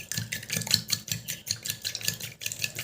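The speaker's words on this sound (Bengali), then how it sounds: "এবার আমি এর ভিতরে দিয়ে দিচ্ছি 2 চামচ মতন জল, দিয়ে ভালো করে মিশিয়ে নেব" Guava leaf paste being stirred with a spoon in a small bowl after about two spoonfuls of water go in, giving quick, repeated scraping strokes in a steady rhythm, close and fairly loud, with no talking.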